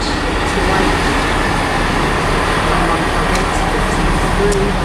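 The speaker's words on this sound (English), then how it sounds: "We have a 158 just come in, by the way." A Class 158 diesel multiple unit train arriving at Shrewsbury station, a steady loud rumble of engine and wheels close by, with brief squeals and a faint voice underneath.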